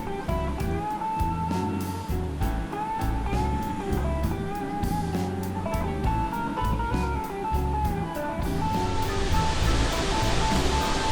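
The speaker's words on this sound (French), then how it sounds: "Magnifique cascade en face." A waterfall in the Alps, seen across the way on the climb toward the Col de la Crouzette, roars as a steady, broad rushing wash that fills the whole stretch, loud and constant with no voices.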